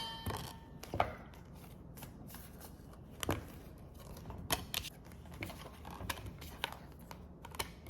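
Playing cards are shuffled at close range during a card reading, producing scattered soft riffles and sharp flicking snaps at irregular intervals over a quiet background, with no speech.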